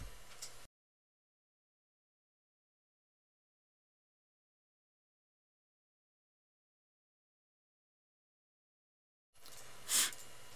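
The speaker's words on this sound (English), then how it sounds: "Had to sneeze." A single sharp sneeze bursts out near the end after a long stretch of silence, loud and close, preceded by a brief breathy snippet at the start.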